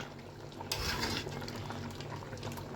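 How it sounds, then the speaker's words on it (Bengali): Water poured into a pot of mutton and deep-fried potatoes, a sudden splashy gush that settles into a continuous bubbling, simmering wash, close and fairly loud with no voices. "মাটনে আমি জল দিয়ে দিয়েছি, তো মাটনটা ফুটতেও শুরু করেছে"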